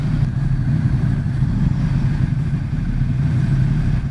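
A Ducati XDiavel motorcycle on a demo ride in Arizona, its engine giving a steady low rumble with wind noise, close and continuous, without talk.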